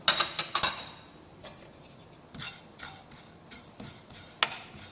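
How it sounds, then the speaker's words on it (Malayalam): Cumin and fennel seeds are dry-roasted in a pan over a low flame, with a spatula stirring them: a cluster of crisp metallic clicks, then scattered scraping strokes and light rattles, close and fairly quiet. "മൂന്ന് ടേബിൾ സ്പൂൺ നല്ല ജീരകവും രണ്ട് ടേബിൾ സ്പൂൺ പെരിഞ്ചീരകവും"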